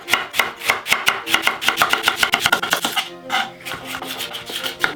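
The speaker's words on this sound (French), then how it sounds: "on passe aux oignons. Le couteau blanc prend la relève. On coupe de l'intérieur comme ça." Knife chopping onions in a home kitchen, a rapid run of sharp, close blade taps on a cutting board, steady through the first half, then sparser cuts and scraping.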